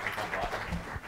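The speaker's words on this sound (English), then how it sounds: "If we could all give another round of applause for Dr." Audience applause at a TEDx event in a school hall, a brief steady wash of clapping with some voices mixed in.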